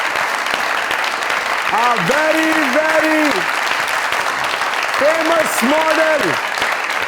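Audience applause at a televised show in a studio, a broad steady clapping wash filling the whole stretch while a host speaks over it throughout, with a brief bright sung or tonal flourish rising through the middle and again near the end.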